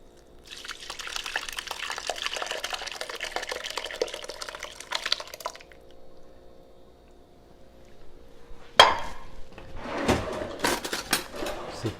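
Homemade cheese curds and whey poured from a pot into a cloth, a running splash of liquid that stops, then a clunk and further irregular drips and splashes close by.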